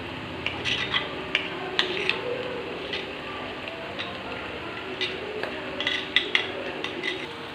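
Chili powder stirred into a Kerala-style sardine curry in a pan, with scraping and clinking of a spoon against the pan in irregular bursts over a steady low sizzle, close by.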